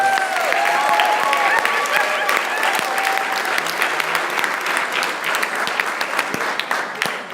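An audience applauds after a debate on a ballot measure at a civic event, loud sustained clapping with a few voices and brief whistle-like tones early on, tapering slightly toward the end.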